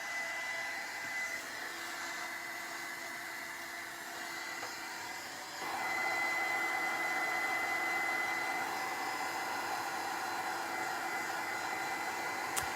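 A hair dryer blows steadily on rust paste coated over an old camera during a makeover, its loud, continuous whine growing stronger partway through as it is moved closer, with no talking.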